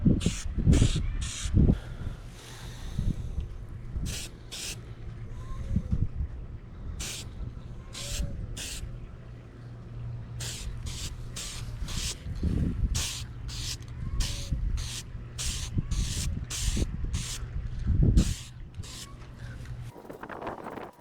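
Aerosol spray paint hissing in repeated short bursts onto a pole spear for a third coat, close and fairly loud, with pauses and faint outdoor background between bursts.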